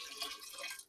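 Honey and water mixture poured from a container into a jug for grocery-store mead, a steady close trickle of liquid running for just under a second before tapering off.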